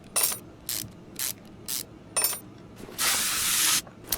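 Spray can hissing on a car part in Car Mechanic 2021, a garage repair game: several short separate bursts of spray, then one longer sustained hiss near the end, loud and close with nothing else audible.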